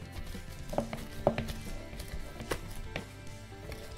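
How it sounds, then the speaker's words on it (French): A potato masher squashes cooked, drained potatoes and Jerusalem artichokes in a pot, giving a handful of soft, dull thuds and squelches at an uneven pace, close by and fairly quiet, with no talking. "On va les écraser au presse-purée."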